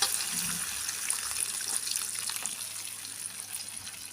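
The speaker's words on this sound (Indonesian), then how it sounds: "Tuh, saya masukkan airnya ya teman-teman." Water pours steadily into a cooking pot while sayur asem with small milkfish is being prepared, a continuous splashing gush that stays fairly soft and close throughout, with no talking.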